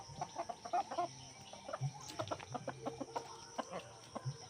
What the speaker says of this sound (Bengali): এবারে মুরগিগুলো একটু ছেড়ে দেবো, ওরা একটু ঘাস টাস খাবে।